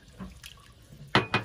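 Cold water is poured into tarhana in a Hatay village kitchen, heard as two quick splashing gushes close by after a moment of quiet background.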